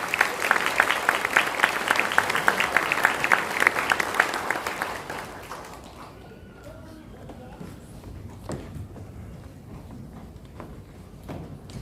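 A church congregation applauds at an elder and deaconess ordination service, dense clapping filling the first six seconds before dying down to scattered claps, shuffling and murmurs.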